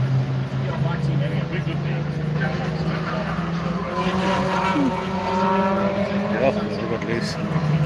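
Race car engine at the Kyalami Fun Cup, Corner 1, droning and shifting in pitch as the car passes, heard under a commentator's steady talk.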